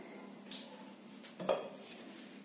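A lid set onto a nonstick pan to cover rice-flour dough for kurkure: two soft metallic clinks about a second apart in a quiet kitchen, followed by a faint rattle.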